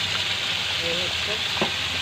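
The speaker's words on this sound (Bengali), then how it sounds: "অলরেডি আমি মাছ ভাজা হয়ে গেছে একটুখানি লাল করে দিব" Poa sea fish frying in oil in a pan gives a steady, close sizzle with faint crackles and a brief stir near the end.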